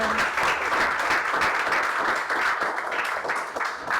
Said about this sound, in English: give a big round of applause for